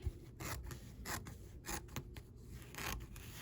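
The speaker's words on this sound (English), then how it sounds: "So now I want to trim this out." Scissors trimming away excess fabric from a machine-embroidered applique on a dress boutique scene hanger, several quiet, close snips in an uneven rhythm.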